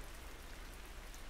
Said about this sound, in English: rain's just started to fall quite heavily now